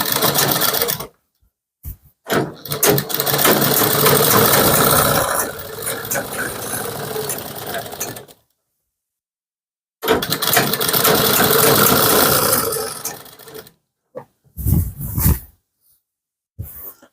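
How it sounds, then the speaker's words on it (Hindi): Kurti side seams are double-stitched on a sewing machine, producing two long, loud, close whirring runs of stitching separated by a pause, then short stop-start bursts. "दूसरी तरफ साइड भी डबल सिलाई कर लीजिए।"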